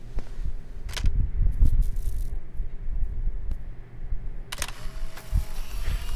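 Camera shutter clicks from taking a selfie in the video game Life Is Strange, a few short sharp snaps standing out over a low in-game ambient background.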